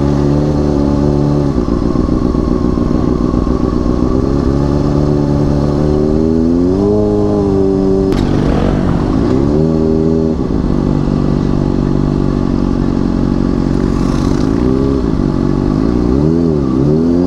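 A super bike's engine, hot after riding, idles loudly up close with a deep throb, rising and falling through several revs, with a brief clattering burst in the middle.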